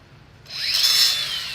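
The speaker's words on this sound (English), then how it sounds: "Charles is cutting out the old hangers from the jack shaft" A power tool bites in abruptly and keeps running with a harsh, high grinding whine, cutting old hangers off a jack shaft on a turbocharged 670 V-twin mini bike build; short, close and loud.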